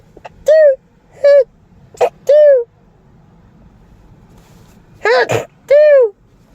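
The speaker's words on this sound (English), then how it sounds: "now I got to sneeze" A person sneezes once, close to the microphone, a sharp breathy burst among several short nasal vocal sounds in an otherwise quiet indoor space.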